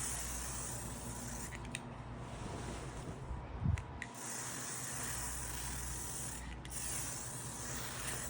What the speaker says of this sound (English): Y'all know we got to do our disinfectant, so every time I travel with one of these.